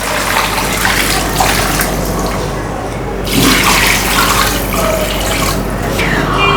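Running water pours steadily into a container holding chicken leg pieces for soaking, a close, continuous splashing stream with slight shifts in flow.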